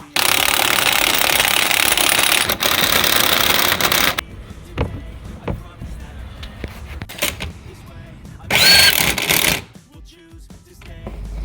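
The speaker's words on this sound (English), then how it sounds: "whiz everything on with the gun, whatever you've got, ratchet, socket, in reverse order" A pneumatic impact gun whizzes wheel hub bolts tight on a 2012 Nissan Note after a front hub replacement, delivering two loud sustained bursts separated by quieter clinks and handling noise.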